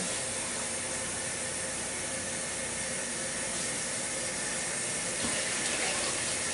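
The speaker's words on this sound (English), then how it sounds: "now I'm going to add my water in" Steady rushing water pours into a pot of eggs and beets for several seconds, a continuous broadband splash with no talking, close and fairly loud throughout.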